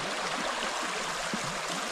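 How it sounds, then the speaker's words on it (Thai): A small stream in deep forest gives off a steady, even rush of flowing water with faint burbles, close and unbroken, with no voices. "เป็นลำธารสายเล็ก ๆ"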